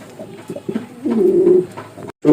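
A domestic pigeon from a Bangladeshi village home loft coos loudly and close by, giving a few soft throaty notes that swell into a longer rolling coo before cutting off.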